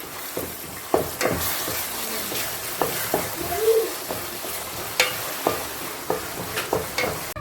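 Chopped tomatoes sizzling in oil in a pan for a gravy, with a spoon repeatedly scraping and stirring, sharp clinks spaced every half second or so over a soft steady fry.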